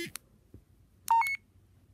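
A bill reader for the visually impaired powers on with a few short electronic beeps, a quick pair of tones followed by a sharper rising two-tone chirp, close and clear against near silence.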